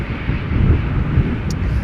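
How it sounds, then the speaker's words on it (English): EasyJet Airbus A319, about 17 years old and first flown in 2006, departing Schiphol for London Gatwick: a steady, loud broadband engine roar with wind rumble, continuous throughout and alone. "A319, outbound London Gatwick, EasyJet flight 28680."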